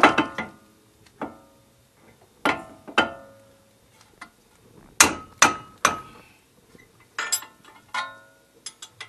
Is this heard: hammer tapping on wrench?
yes